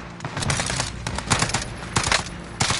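Machine gun fire in a multiplayer war-zone video game, repeated short bursts of loud rattling shots in quick succession, close and continuous across the moment.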